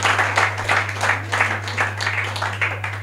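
A church congregation clapping together in a loose, pulsing rhythm, moderately close and lively, over a steady low electrical hum, with no speech on top.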